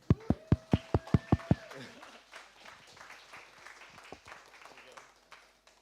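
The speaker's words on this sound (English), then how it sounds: "So please help me welcome, with a loud round of applause, David Casey." A run of sharp, close, evenly spaced claps opens the welcome of a speaker at a Bangkok conference opening, followed by softer scattered audience clapping that fades under murmuring voices.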